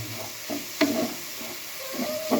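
Carrot halwa stirred with ghee in a pan, giving soft scraping stir strokes at an irregular pace over a faint sizzle, close and fairly quiet.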